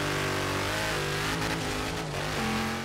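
A Dodge Challenger Hellcat with a rallycross build revs steadily in Forza Horizon 3, its engine note climbing and shifting in pitch as it races, loud and close with no talk over it.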